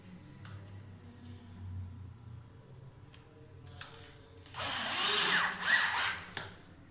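A power drill driving in to fit a kitchen cabinet door hinge, one sustained whirring run of about two seconds near the end, close and moderately loud after a stretch of quiet room noise.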